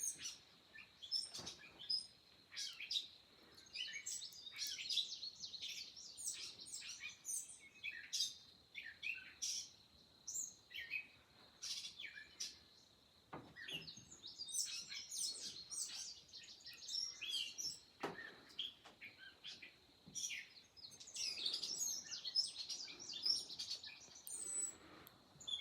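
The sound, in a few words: catbird singing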